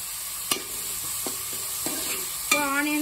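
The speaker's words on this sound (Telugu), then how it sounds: "ఓకే, ఇప్పుడు ఆనియన్స్ వేసేద్దాం." Chopped onions for chole masala sizzle in a pan with a constant hiss, broken by several sharp scrapes and knocks of a spoon stirring them, nearby and without talk.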